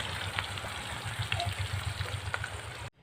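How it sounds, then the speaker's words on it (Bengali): Fish frying in a pan gives a soft, steady sizzle with light crackles, fairly quiet and continuous, alongside a low rhythmic hum in the background before the sound cuts off abruptly at the end. "মাছ ভাজা বসিয়ে দিয়েছে"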